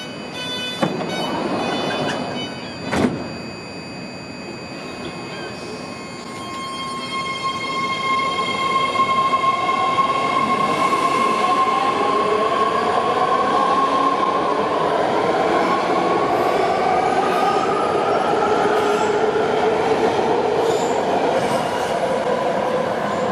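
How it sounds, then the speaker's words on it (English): A southbound Green Line BART train bound for Berryessa pulls into the station, its low rumble growing into a loud, steady roar with a sustained wheel squeal and a sharp clank near the start. "Here's another one coming southbound, Green Line, with a final destination stop of Berryessa, North San Jose."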